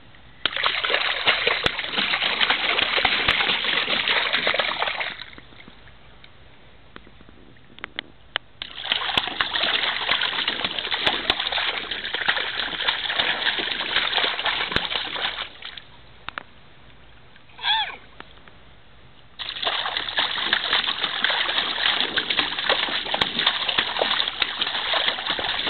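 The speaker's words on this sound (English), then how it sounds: "Do you like splashing?" A young child splashes in a pool in long bursts of loud, close sloshing and spattering water, separated by quieter pauses with faint dripping.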